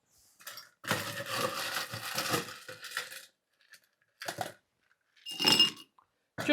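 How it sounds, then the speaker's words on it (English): Ice drops into an old-fashioned glass in a few separate clattering bursts, one long rattling pour followed by shorter clinks after brief pauses, close and fairly quiet. "we're going to take an old-fashioned glass and we're going to put a little bit of ice in it"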